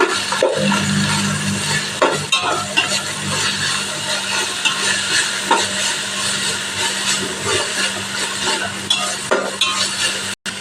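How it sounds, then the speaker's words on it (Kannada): Beans and cabbage being stir-fried together in a pan for noodles, with steady close sizzling and scraping stirs running throughout and no talk. "ಬೀನ್ಸ್ ಹಾಕ್ತಾ ಇದ್ದೀನಿ. ಇವಾಗ ಕ್ಯಾಬೇಜು ಹಾಕ್ತಾ ಇದ್ದೀನಿ ಅದ್ರ ಜೊತೆನೆ. ಮಿಕ್ಸ್ ಮಾಡ್ಕೋಬೇಕು ಸ್ವಲ್ಪ."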